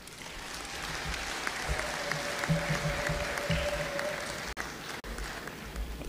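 Applause from a crowd at a public meeting of a council of elders in Dar es Salaam, a steady distant patter of clapping lasting several seconds with a faint tone and murmur beneath.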